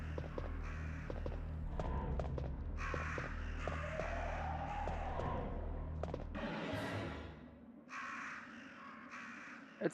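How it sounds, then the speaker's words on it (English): Crows caw in the PS1 video game Resident Evil, with harsh, repeated calls layered over a low droning ambience and scattered clicks. A final burst of cawing stands out alone after the background drops away. "the crows are gonna try and kill us"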